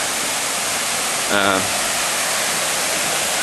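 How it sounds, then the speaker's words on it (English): A farm creek returning to normal flow after flooding rushes in a steady broadband hiss, constant and fairly close, with a brief tonal chirp cutting through midway. "And so here's my creek. It's coming back to normal now."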